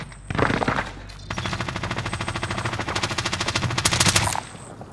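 Rapid submachine gun fire in a video game, a sustained burst of evenly spaced shots lasting several seconds after a brief opening shot, loud and close.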